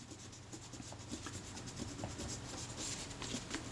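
Steady close rubbing on the corroded top edge of a Kodak Retina IIIS camera, along its brass black-painted trim, a continuous scratchy friction with faint intermittent strokes and no talking.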